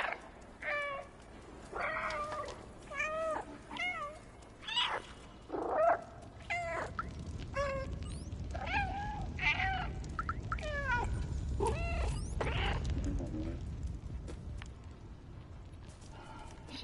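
Repeated meows from a cat in a video game, several clear calls in the first half, then fading under a low rumbling game background.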